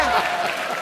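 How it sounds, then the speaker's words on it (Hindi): Brief burst of studio audience applause on a Hindi comedy talk show, dense and steady throughout. "जोरदार तालियां!"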